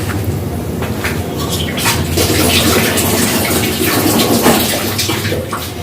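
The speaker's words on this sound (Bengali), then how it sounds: "আমি একটু হাতটা ধুয়ে নিচ্ছি" Hands are washed under a running kitchen tap, with a loud, steady gush of water splashing over skin and into the sink.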